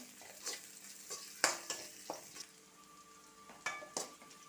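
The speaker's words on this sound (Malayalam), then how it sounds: "ഇനി ഇതിലേക്ക് നമുക്ക് പച്ചമുളക് ഇട്ട് കൊടുക്കാം ഇനി ഇത് നന്നായിട്ടൊന്ന് വഴറ്റിയെടുക്കണം" Browned onion and green chilies sautéed in a pan for an Andhra recipe: a quiet background sizzle with repeated scraping and clinking stirring strokes of a spoon against the pan, with no talk.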